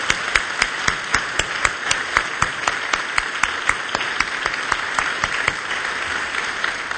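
A church congregation applauds its sound technicians during a Korean worship service. Crisp individual claps stand out over a softer mass of hands, rhythmic and moderately close, with no talking.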